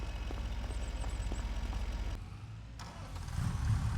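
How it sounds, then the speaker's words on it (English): A Case International tractor engine in a farming video game runs as a steady low rumble, cuts out briefly, then turns over and starts up again to a louder, rougher idle. "So I'm gonna start the tractor"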